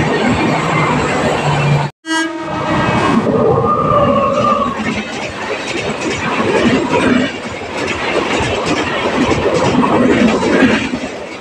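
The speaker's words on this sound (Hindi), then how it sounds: "गोदाम शताब्दी एक्सप्रेस" The Kathgodam Shatabdi Express passes loudly and close by, a sustained roaring rumble with rattling wagons and clickety-clack that lasts throughout after a brief gap.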